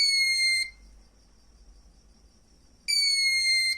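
A magnetic reed switch sensor circuit sounds a high, shrill electronic alarm tone twice, each time briefly and loud, separated by a quiet gap with a faint low hum.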